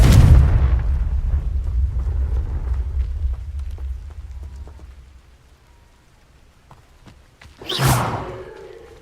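The Confringo explosive spell blasts in Hogwarts Legacy, opening with a loud, deep boom that rumbles and fades, then a second sharp burst near the end.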